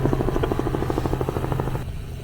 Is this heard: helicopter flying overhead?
yes